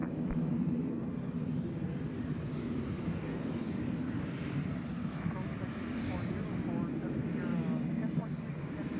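A fixed-wing airliner on the ground or departing at Nashville International Airport, its broad steady engine roar continuous and fairly loud throughout, with faint voices in the background.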